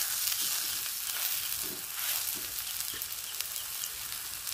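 Pumpkin fritters frying in hot oil give off a steady, close sizzling hiss with faint bubbling crackles throughout and no voices.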